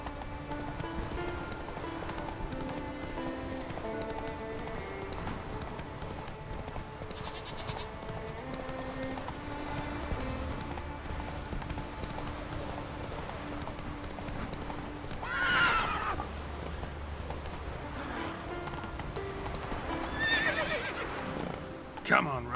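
Geralt's horse Roach galloping in the video game The Witcher 3, with steady rhythmic hoofbeats, a couple of loud whinnies and game music underneath.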